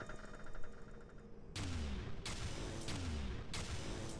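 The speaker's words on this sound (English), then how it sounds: "Well, that was the ion cannon." Ion cannon firing in the space strategy game Space Run, heard as a few loud booming, crackling blasts with falling tones starting partway through, over a steady game background.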